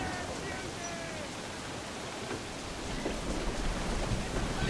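Rain pours down during a storm at sea in the pirate game Assassin's Creed IV: Black Flag, a steady, fairly quiet hiss of rainfall that swells slightly toward the end.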